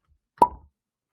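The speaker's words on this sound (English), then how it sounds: "Quiet on the set for the cork pop of the Noahs." The cork is pulled from a bottle of Noah's bourbon, giving one quick, clean pop up close, followed by a brief fading rattle and then silence.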